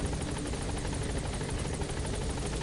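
A military helicopter in Metal Gear Solid V roars close and loud, a dense continuous rotor thrum and engine wash filling the sound with no pauses.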